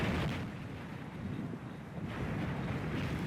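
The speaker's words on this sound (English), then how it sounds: "Listen to the wind. That really is gusting up." Strong gusting wind buffets the microphone on a links golf course during a women's professional tournament in Scotland, a steady roaring rumble that dips briefly and then surges again, heard alone with no talk.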